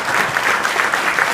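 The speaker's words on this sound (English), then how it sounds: "give you all a round of applause for your service to our youth each and every day" Breakfast audience in a banquet room giving a round of applause, loud steady crowd clapping with individual claps audible throughout, no talking over it.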